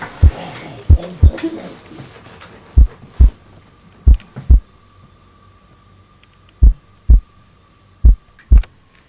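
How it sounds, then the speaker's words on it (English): Heartbeat sound effect with deep paired thumps, loud and close over a low hum, arriving in a broken rhythm with pauses between pairs. "the hellish tattoo of the heart increased. It grew quicker and louder at every instant."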